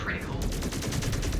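Mech weapons fire in the MechWarrior Clans video game, a rapid series of muffled, repeating gunfire bursts over a dense rumbling battle bed.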